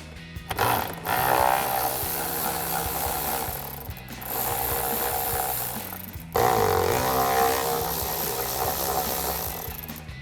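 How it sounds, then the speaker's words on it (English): Hand tools work on the plastic intake box of a RAM 2500, giving close, continuous rough scraping and rubbing in long stretches, broken by two brief pauses, with no talking. "So we'll grab a 10mm socket to remove these."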